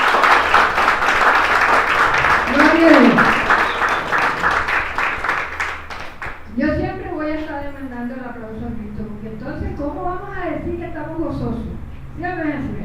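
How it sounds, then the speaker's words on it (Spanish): A church congregation applauds loudly for about six seconds, with dense clapping mixed with crowd noise, and then someone speaks over a fading room. "Denle un aplauso."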